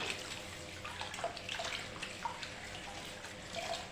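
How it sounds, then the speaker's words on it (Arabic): Tap water runs steadily over grapes being washed by hand in a kitchen sink, a soft continuous splash with faint irregular drips and patters, fairly quiet and close. "نبدا نغسلها كويس تحت الميه بتاعتنا كده"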